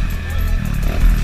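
Loud, continuous engine drone from a Honda Titan 150 motorcycle with a GP Competition aftermarket exhaust, heard up close and holding steady for about a second with a slight rise at the end.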